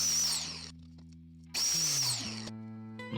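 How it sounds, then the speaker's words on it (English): A Wen biscuit joiner whines loudly as it cuts biscuit slots into a wood frame, with two bursts of high motor screech that each wind down in pitch, separated by a brief near-silence. "here we are using our Win biscuit joiner to put in the biscuit slots for our frame"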